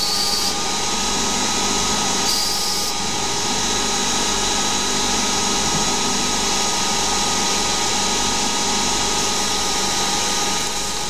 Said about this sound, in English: Then we use a turning tool to turn down to the 12 diameter.